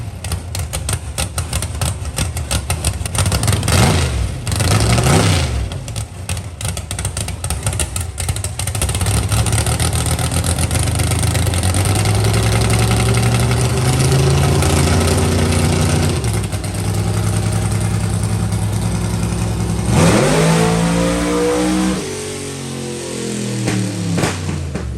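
Loud 1975 Nova drag-racing engine on a dyno, making a full pull: rough idle and blips, then a sustained rising roar climbing in pitch for about fifteen seconds before cutting off and revving again near the end, with no talk.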